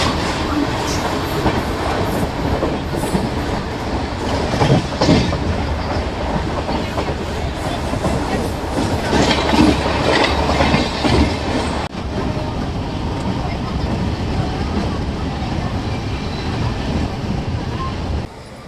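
The 12657 KSR Bengaluru Superfast Mail rolls slowly near Arakkonam Junction, its wheels and carriages giving a loud, continuous rumble and rattle with rhythmic clicks on the rails, heard from on board.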